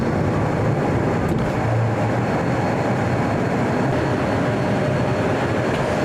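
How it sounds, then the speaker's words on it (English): A small airplane powering up for its takeoff roll on runway 24, a steady, loud broadband engine and wind roar that holds constant throughout with no talking. "Final items are complete, and you're clear for takeoff runway 24"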